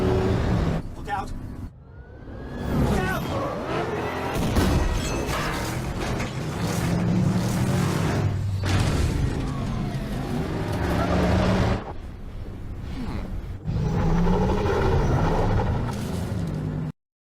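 A scale-model Batmobile collides with a larger truck in a staged crash, giving a loud, sustained stretch of mechanical clatter and rumble with bursts of impact noise. The noise drops out briefly before it surges again.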